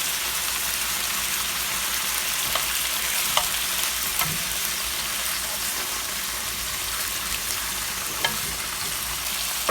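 Pork and collard greens reheat in a frying pan with a steady, even sizzle and occasional faint clicks, close by with no talking.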